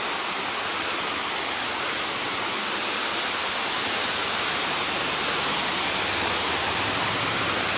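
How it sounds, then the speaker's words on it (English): A small waterfall pours out of the mountains at a trailhead on the Blue Ridge Parkway, a steady, loud rushing of water that stays constant throughout with no voices. "There's a nice little waterfall coming out of the mountains."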